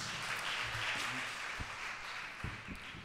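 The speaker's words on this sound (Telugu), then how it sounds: "కొట్టు చప్పట్లే గట్టిగా" An audience at a ministry gathering claps loudly in a dense sustained burst, while a voice speaks intermittently underneath.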